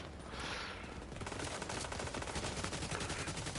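Automatic gunfire from emptying two magazines in The Division 2: a dense, unbroken stream of rapid shots, loud and continuous from start to finish.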